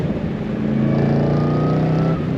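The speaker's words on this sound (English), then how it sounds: "the reason it sounds like it stutters for a second is it breaks loose the back end" A loud supercharged 2015 Chevrolet Camaro Yenko SC engine roars steadily under hard acceleration, close and continuous, its pitch climbing slightly, with a brief stutter as the rear tires break loose.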